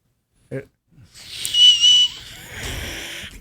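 A person whistles by squeezing the bottom lip, producing a loud, shrill, airy tone that rises and wavers for about two seconds after a brief vocal sound.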